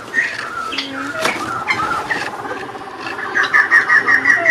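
Aviary birds, Madagascar turtle doves and Palawans, calling with repeated chirps and coos at close range, growing busier and more rhythmic toward the end, with no talking.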